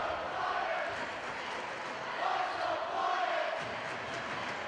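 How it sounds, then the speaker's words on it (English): A varsity basketball student section calls out the rival school's students, a steady roar of massed young voices chanting and shouting across the gym, heard from a distance with a voice talking over it. "now you hear the student section of the Firebirds calling out the Elks student section"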